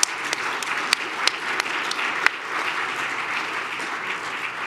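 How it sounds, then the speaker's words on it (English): Audience applause for an emergency-communication panel, a steady wash of many hands clapping, moderately loud, with a few sharper claps standing out near the front. "can we give a round of applause to everyone before we get to the public?"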